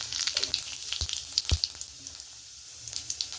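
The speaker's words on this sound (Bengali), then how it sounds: "ফোড়নে দিচ্ছি একটা তেজপাতা আর কাঁচা লঙ্কা, আর এই যে গোটা জিরে" Bay leaf, green chilli and whole cumin crackle in hot oil as a tempering for aloo dum, a dense close sizzle with crisp pops and two louder thuds, no speech.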